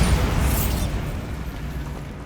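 A Bombarda spell explosion in Hogwarts Legacy blasting a barricade: a heavy close boom at the start that decays into a low rumbling tail of falling debris, no voices.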